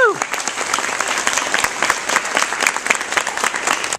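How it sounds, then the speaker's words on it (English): An audience at a motivational live event breaks into dense, sustained applause with crisp individual claps close by and occasional cheering mixed in. "give yourselves a round of applause for being here and for being alive"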